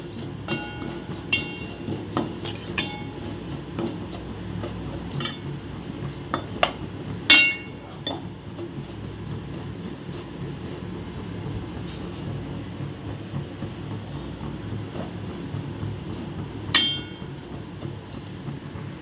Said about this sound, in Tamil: சேமியா வந்து இந்த நெய்யில் போட்டு நல்லா வறுத்துப்போம் நல்லா சிம்மில் வச்சு இந்த மாதிரி வறுத்துக்கோங்க